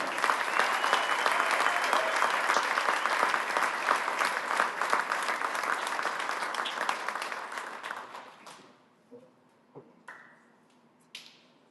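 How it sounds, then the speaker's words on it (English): Enthusiastic applause at a Nashville SC unified team player announcement, dense clapping for about eight seconds that fades out, followed by a few scattered claps and a short electronic tone. "So everybody, please give a huge round of applause for number 18,"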